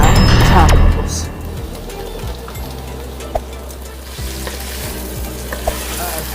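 Onions, garlic and carrots sauté in a hot pan for a vegan jackfruit birria, opening with a loud burst of sizzling that settles into a steady fry, punctuated by scattered stirring taps.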